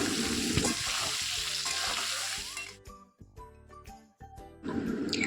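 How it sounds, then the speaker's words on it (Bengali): Potato and brinjal pieces fry in oil with salt and turmeric over a medium flame, a loud sizzle that drops away midway under clattering stirring and utensil clinks, then swells again. "লবণ হলুদটা ভালো করে মিশিয়ে মিডিয়াম ফ্লেমে এটাকে ভাজা হতে দেবো"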